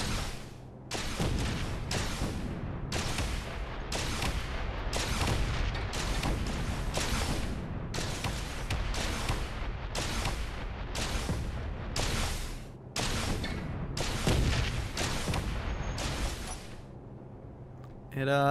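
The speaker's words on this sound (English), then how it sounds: "the explosion sound effects in space are interesting" A relentless barrage of booming, crackling blasts repeats about once a second, loud and dense: synthetic explosions in space from the video game Space Engineers.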